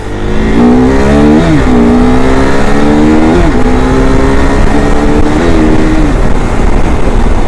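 A KTM 390 motorcycle revs hard while being ridden, its loud, close engine whine climbing repeatedly and dropping back at each gear change, with wind roar underneath and no talking.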